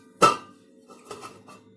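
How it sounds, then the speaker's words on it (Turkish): A sharp metallic clank of a lid set onto a pot of ashure, followed by a couple of softer clinks, close by in a quiet room. "Tenceremizin kapağını kapatalım"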